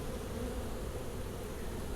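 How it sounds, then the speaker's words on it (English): Steady, dense buzzing of many package honeybees flying close by during installation in a Warre top bar hive, a continuous low hum with no pauses. "Fewer bees flying around,"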